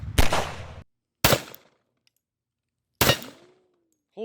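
Three loud, close SR-45 pistol shots fire in a video game, each a sharp blast with a short decaying tail, spaced roughly a second or more apart.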